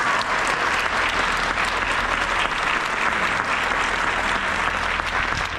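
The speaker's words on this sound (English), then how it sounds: "Can we give them one more round of applause?" Concert audience applauding a jazz band's soloists at a Christmas concert, a dense, loud and even burst of clapping from a full hall that holds steady throughout, with no voices over it.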